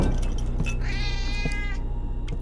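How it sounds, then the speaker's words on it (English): A house cat meows once, a clear rising and falling call heard close by over a steady low hum, with soft clicks around it and no talk. "There's a kitty cat."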